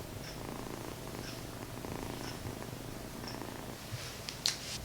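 A tiny kitten purring softly in a steady, low rumble, faint and close, with a few small clicks near the end and no voices.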